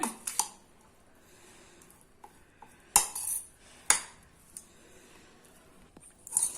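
Spoon clinking and scraping in a pot while tamarind rice (puliyodharai) is mixed with salt, with a few sharp close knocks separated by quiet stretches.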